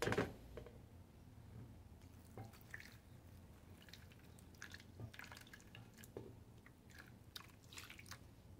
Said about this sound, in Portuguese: E vamos despejar água bem quente.